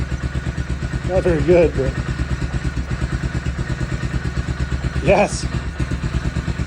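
A 1986 Honda Fourtrax ATV engine idles with a steady, close, low putter running throughout, while a person talks briefly over it.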